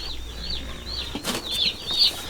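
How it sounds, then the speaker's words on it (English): A new batch of meat chicks in a barn gives off a steady chorus of high, repeated peeping mixed with light wing flutters, moderately close and without voices. "it was off to the barn to get our new batch of meat chickens settled into their new home"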